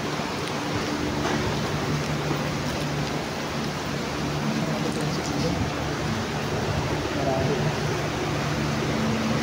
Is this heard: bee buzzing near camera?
no